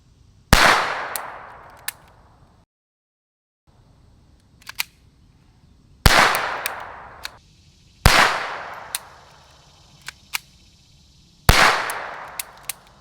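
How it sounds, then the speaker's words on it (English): Walther P22 rimfire pistol firing unsuppressed at a range: four loud, sharp single shots spaced a second or more apart, each with a short ringing decay, plus faint distant shots in the gaps. "we're gonna move on to the Walther P22. We're gonna put a few rounds down range."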